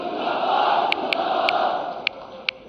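A crowd at a BJP membership campaign launch event with Prime Minister Modi cheers and applauds in a broad, steady roar, with a few sharp claps standing out near the end.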